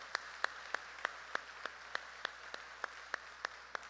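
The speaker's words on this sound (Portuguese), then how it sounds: "a nossa igreja quer dar uma salva de palmas a nossos visitantes" A single person in a church service claps slowly and evenly, about a dozen sharp, faint claps at a steady rhythm over a quiet room hum.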